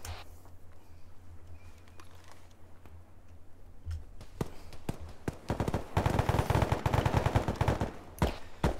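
Video game gunfire in a military shooter, with scattered shots early that build into dense, sustained automatic bursts and rapid volleys, loud and near, with mechanical ticking between shots.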